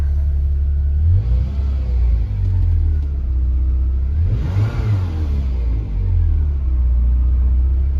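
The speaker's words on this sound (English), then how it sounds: "Okay to give it a rev? Yeah, you can give it a little rev." A parked Ferrari 348 on a rainy day is revved, its idle rumbling steadily before one sharp rise in engine pitch that swells loudly and falls back to idle, close and alone.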